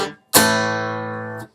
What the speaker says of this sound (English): A5 chord, kind of a rock and roll A.